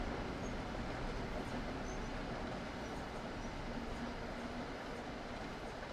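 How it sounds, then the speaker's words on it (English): A train rolls past in Train Sim World on the NEC New York route, a steady rumbling wash of wheels and carriages with faint squeals, continuous and fairly loud, with no talking. "We do have kind of a train by, which is nice, though."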